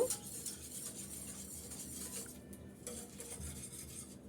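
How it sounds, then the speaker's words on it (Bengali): A milk mixture is stirred continuously in a pot on the stove, with a spoon scraping and rubbing against the metal in a steady rhythm, close and alone. "চুলাটা ধরিয়ে দিয়ে আমি অনবরত নেড়ে চেড়ে বলক তুলে নেব"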